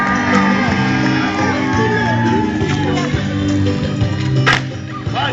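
A crowd at a Warwick Castle knights' tournament shouts and cheers for a knight, a loud dense roar of voices with whoops and yells running throughout.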